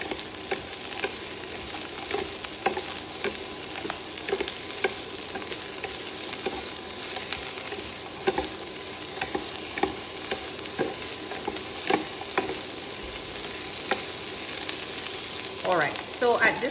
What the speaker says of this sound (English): we're just going to put our vegetables in and cook the vegetables, stirring constantly until they